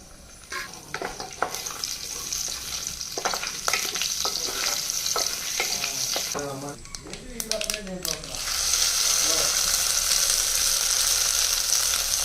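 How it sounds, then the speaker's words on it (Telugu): Ghee, mustard seeds, cumin and dried red chillies sizzle in hot oil, with crackles and spatula stirring against the pan, and a louder steady hiss building toward the end. "ఆయిల్ కొంచెం వేడెక్కాక వన్ టేబుల్ స్పూన్ నెయ్యి వేసుకోవాలి ఫ్రెండ్స్ కొంచెం ఆవాలు కొంచెం జీలకర్ర నాలుగైదు ఎండుమిర్చి"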